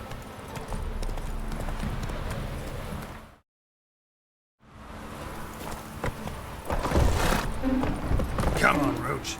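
Horse trotting in the video game Witcher 3, a steady clip-clop of hooves, cut by a brief silence and resuming louder, with a voice speaking over it.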